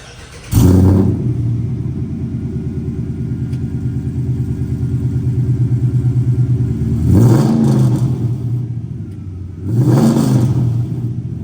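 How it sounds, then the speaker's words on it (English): A Dodge Pursuit V8 with an aftermarket exhaust fires up loudly and close, settles into a deep rumbling idle, then gives two hard revs, each roaring up and dropping back to the burbling idle. "having the ability to change out the exhaust and get that amazing V8 sound"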